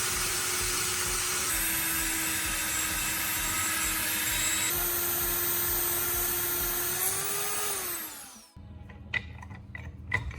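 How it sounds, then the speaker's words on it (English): A power drill bores a hole through a knife-sharpening stone, whining steadily and loudly for about eight seconds before slowing and spinning down, followed by a few faint knocks. "Drill a straight hole through the marked point."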